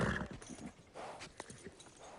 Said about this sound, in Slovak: Chytili sme divokého koňa, pane. Mustanga.